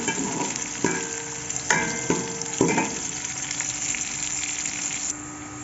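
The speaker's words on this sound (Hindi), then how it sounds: "घी गर्म हो चुका था, तो मैंने प्याज ऐड कर दी हैं। इसको गोल्डन ब्राउन होने तक मैं फ्राई करूँगी" Onions sizzle and fry in hot ghee, a loud, steady crackle with occasional sharp clinks of a utensil stirring the pan.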